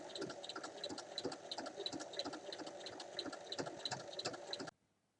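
A sewing machine runs steadily along a fabric bag, a fast even mechanical stitching rattle close by that stops abruptly near the end.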